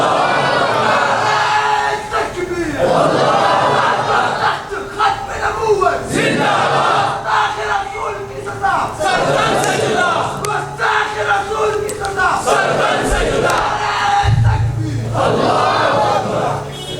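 A large crowd at a religious speech chants slogans in loud, rhythmic bursts of massed voices that swell and fall repeatedly, filling the hall close and strong.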